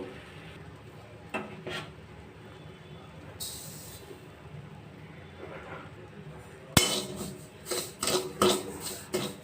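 Semolina dry-roasting in a hot kadai over a low gas flame, with a faint, steady rustle of stirring that turns into louder, rhythmic scraping and clinks of a spoon against the pan in the last few seconds.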